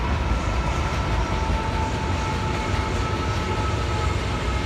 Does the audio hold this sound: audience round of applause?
no